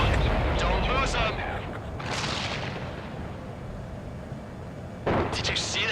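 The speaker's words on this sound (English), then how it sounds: "Did you see that explosion?" A loud explosion in the Ace Combat 7 air combat game, set during the homeward mission 17, bursts through amid dense battle rumble, followed by another sharp blast near the end.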